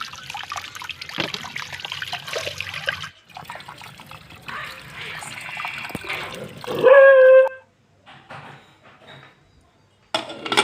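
Running water splashes and trickles while something is rubbed and swished in it, followed by a short high tonal squeal and quieter rinsing sounds.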